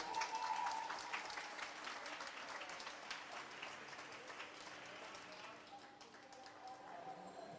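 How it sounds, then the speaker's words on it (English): A crowd at a regional short-course swimming championship applauds the athletes after a heat, dense clapping that starts loud and gradually thins, echoing in an indoor pool hall. "Big round of applause for our 8 athletes."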